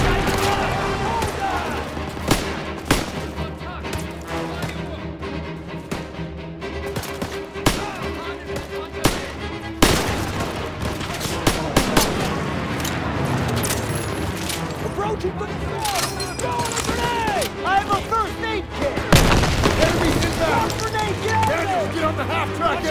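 Machine gun fire in a Call of Duty: WWII battle, with bursts and single gunshots crackling near and far amid a noisy firefight and sharp impacts, while voices shout over the combat.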